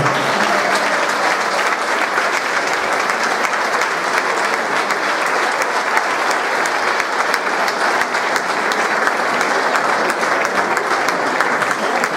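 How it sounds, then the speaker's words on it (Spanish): Loud, sustained applause from a full audience honours the AMPA parents' team of a primary school in Puntallana, a dense even wash of many clapping hands lasting throughout without a break. "un fuerte aplauso para ellos"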